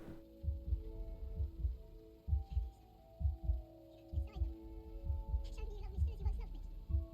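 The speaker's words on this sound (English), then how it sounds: "Is the heartbeat important too, or is that just background noise?" A steady thumping heartbeat in the video game Immortality, regular paired low throbs repeating close over a faint hum, with occasional soft background sounds.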